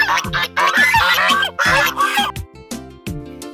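Swans in a children's park at a resort, giving loud honking and quacking calls in bursts with short pauses between, close by.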